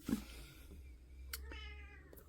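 A cat meows faintly nearby, two drawn-out wavering cries following a brief soft thump, set against a low steady room hum with no talking.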